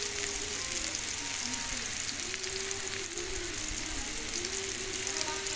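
Cumin paste frying in a pan for a vegetarian vegetable dish, a steady, close, even sizzle that crackles continuously throughout.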